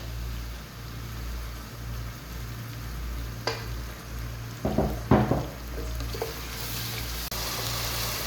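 Onions browning in about half a cup of cooking oil for mutton paya, a steady low sizzle and bubbling throughout with a few clanks and stirring scrapes partway through.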